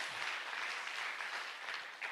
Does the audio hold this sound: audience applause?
yes